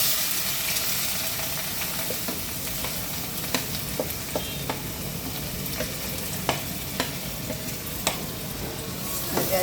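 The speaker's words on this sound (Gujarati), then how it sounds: "તેલ ગરમ થઈ ગયું. હવે આપણે ગાજર નાખી દઈશું પહેલાં." Carrots dropped into hot oil in a home kitchen pan sizzle steadily, with a constant frying hiss broken by sharp clinks and scrapes of a stirring spoon at irregular intervals, close and fairly loud.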